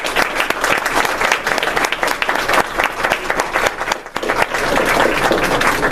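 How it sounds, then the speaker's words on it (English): Loud, sustained applause from the audience at a county board of education meeting, many hands clapping close and dense, with a brief dip near the end before the clapping swells again. "I think we need to give them a great big round of applause this evening."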